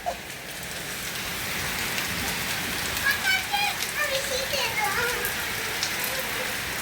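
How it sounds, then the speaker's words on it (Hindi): Steady rain pours down outdoors in a constant hiss of drops, with children's voices chattering and calling faintly in the middle. "मैं ज़िंदगी में पहली बार जो है नहाई हूँ बारिश में"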